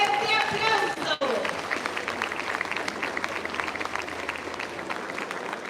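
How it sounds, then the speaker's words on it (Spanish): Crowd at a pageant queen election in San Mateo, Valparaíso, Zacatecas claps for a candidate, a broad, continuous wash of applause after a brief cut, with a voice over a PA and crowd noise underneath. "La recibimos con un fuerte, fuerte aplauso"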